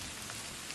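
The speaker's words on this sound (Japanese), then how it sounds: "雨かよ。" Steady rain falls in the video game The Witch and the Hundred Knight, a dense, even hiss that holds throughout with no voices and only a faint drop or two standing out.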